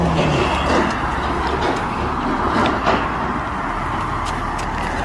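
A village vehicle, a shop van in a Hungarian village, rumbles past close by with a steady, loud engine and road noise that eases slightly toward the end, no talking.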